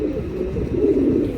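Male racing pigeons cooing close by, a continuous low throaty rolling coo with overlapping calls from several birds.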